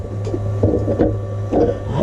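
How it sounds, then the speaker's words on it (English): A 3D printer prints miniature railway parts, its steady motor hum running under a series of short stepper-motor whirs and buzzing moves, close and constant. "parts for this one on the printer"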